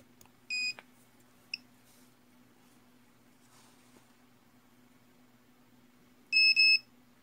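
An electronics continuity tester beeps on a short circuit during component checks for circuit repair: two short, clear electronic beeps, one early and one near the end, with a tiny blip between, over a faint steady hum in a quiet room.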